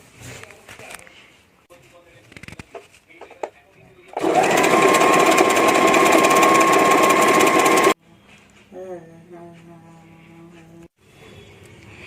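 A sewing machine runs in one loud, continuous burst for about four seconds as it stitches two Banarasi saree panels together, with quieter handling noises before and after.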